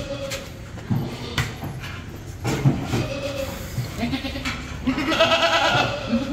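Sojat goats at a goat farm in Bhiwandi, being weighed, bleat repeatedly and close by amid shuffling and clattering farm noise.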